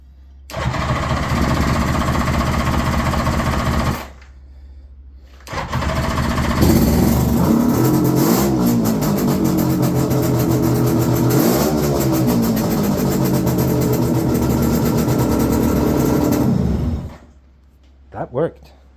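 A Suzuki GT750 motorcycle engine, freshly rebuilt, cranks and catches, stops briefly, then restarts and runs loud and close with rising and falling revs for about ten seconds before cutting out.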